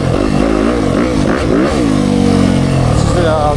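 A Yamaha YZ450F dirt bike engine barks through loud, close on-off throttle blips, pitch swinging up and down in quick bursts before settling into a sustained higher rev.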